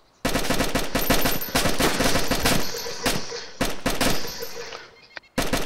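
Rapid automatic gunfire in the survival video game DayZ, loud, dense bursts of shots filling most of the stretch with a couple of brief pauses between volleys.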